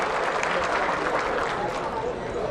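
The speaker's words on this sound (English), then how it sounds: "Please give them a big applause." Applause from a ballroom audience at a charity gala sounds as a dense, continuous wash of clapping from many hands, with crowd murmur blended into it.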